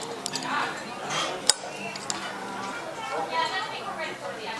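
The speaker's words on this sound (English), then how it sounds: "Slide your knife up here. Cut down there. You can pull the shell off and get all of the meat out." A knife scraping and clinking against a plate while cutting a shrimp and pulling off its shell, light clatter of cutlery and dishes under steady conversation.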